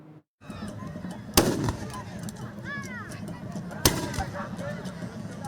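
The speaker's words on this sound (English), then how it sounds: "Firing of Dane guns by the Emir's Royal Guard heralds the arrival of the Emir of Dutse" Dane guns fired by the Emir's Royal Guard at a Durbar for the Emir of Dutse: two sharp, loud blasts a few seconds apart over crowd noise and a narrating voice.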